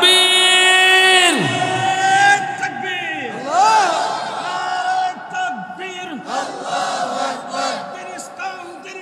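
A large crowd at a Bangladeshi Islamic waz sermon roars a takbir chant in unison, a loud swelling group shout that rises and falls, followed by a preacher's amplified voice speaking over echoing hall reverberation.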